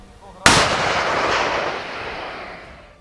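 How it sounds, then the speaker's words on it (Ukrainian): A single loud artillery shot booms sharply at a target 1100 metres away, then its rumbling echo rolls away and fades over a few seconds. "Огонь! Постріл!"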